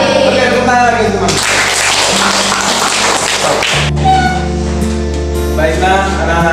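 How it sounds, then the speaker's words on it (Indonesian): A primary school class claps together during an Islamic prayer lesson. A burst of dense clapping lasts a couple of seconds between stretches of sustained tonal music or humming, and the sound stays loud throughout. "Oke, tepuk tangan lagi teman"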